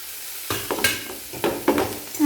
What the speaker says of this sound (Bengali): রসুন বাটা 1/2 চামচ দিয়ে দিলাম, তেলের মধ্যে নাড়াচাড়া করে নেব।